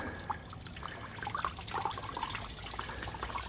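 Coolant oozing and dribbling from a loosened radiator hose on a Pontiac LeMans under restoration, propped open with a tool; a steady, close trickle with faint irregular drips throughout.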